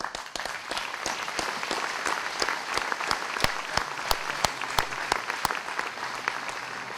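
An audience at the 2022 City of Hamilton Veteran's Hall of Fame induction gives a sustained round of applause, with dense steady clapping and a few sharper individual claps standing out near the front.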